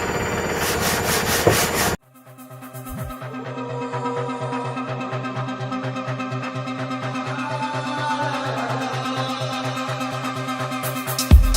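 A garden tool is rubbed back and forth on a fine-grit sharpening stone, first in quick loud strokes, then in a steadier grinding rub that continues to the end.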